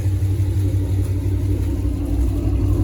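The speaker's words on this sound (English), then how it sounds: "I guess them headers do make a different noise" A steady low exhaust rumble from an idling 6.4 SRT8 engine with long tube headers, even and continuous, heard close up with no talking.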